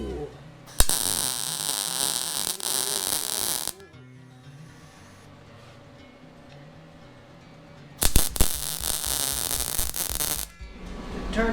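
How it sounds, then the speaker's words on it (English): A welder fuses a tractor cab hinge in two loud crackling, buzzing bursts of a few seconds each, with a quieter humming workshop pause between them. "we're going to go ahead and weld it real quick."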